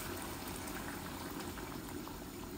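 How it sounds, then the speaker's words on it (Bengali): Curry broth poured into a pot of salmon head curry, giving a steady close bubbling, sizzling wash of liquid that holds evenly throughout. "ঝোলগুলা দিয়ে দিচ্ছি, দেখুন"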